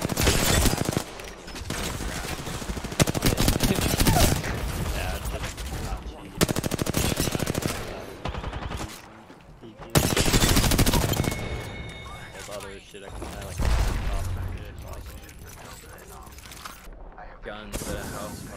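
Rapid bursts of gunfire crack out near a house party, loud, dense volleys that come and go in waves through the stretch, with voices and commotion mixed underneath.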